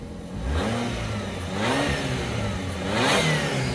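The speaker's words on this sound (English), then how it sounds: "Let's give it a couple revs." A supercharged Subaru Sambar's 4-cylinder engine revs up a couple of times from a steady idle, each rise in pitch swelling and falling back, close and fairly loud with no talking.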